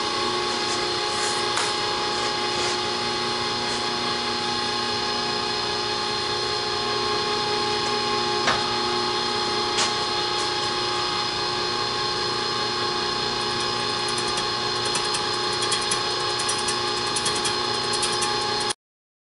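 Milling machine decking the surface of a 7.3 diesel engine block, a continuous loud, steady metallic whine and grinding hum that runs unbroken, with faint ticks scattered through.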